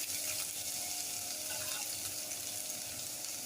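Finely chopped garlic hits four to five spoons of hot oil in a kadhai, giving a steady, close, continuous sizzle with no voices over it.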